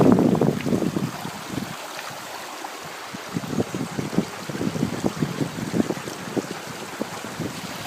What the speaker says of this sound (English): The water's running at a pretty good clip down here.